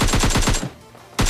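Automatic gunfire in a shooting video game: a loud, rapid burst of close shots, a brief pause, then another burst begins.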